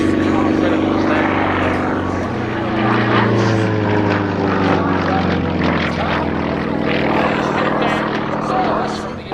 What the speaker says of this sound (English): Just that engine pulling him along in a 9-foot propeller.